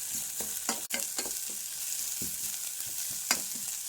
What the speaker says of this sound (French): On les fait revenir un petit peu.